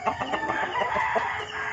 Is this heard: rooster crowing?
yes